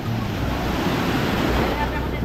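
Ocean waves surging and rolling continuously nearby, with gusty wind rumbling across the microphone.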